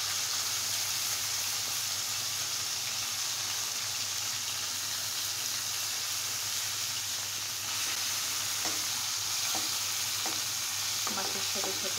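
Onions and garlic fry together with fish in a pan, giving a steady close sizzle with occasional soft stirring scrapes and no talk.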